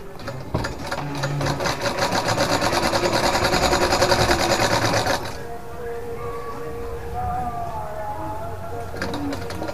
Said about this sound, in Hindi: यहाँ पर सिलाई हम सीधे यहाँ लगा लेंगे